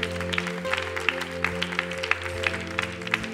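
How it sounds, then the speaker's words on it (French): A church congregation claps steadily over a sustained organ or keyboard chord, with the applause rising in soft pulses throughout. "Est-ce qu'on peut applaudir ces gens-là ce matin?"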